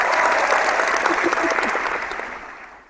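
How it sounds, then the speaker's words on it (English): A room full of people breaks into steady, dense applause after a quiz contestant's win, loud at first and gradually thinning as it tails off over about three seconds. "Everyone, give her a round of applause."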